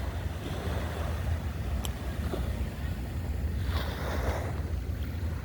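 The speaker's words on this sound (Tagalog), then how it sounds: "malaking alon" Rough, continuous roar of big ocean waves and wind along the Dipolog City Boulevard seawall in the Philippines, waves churning loudly near the microphone with gusty buffeting throughout.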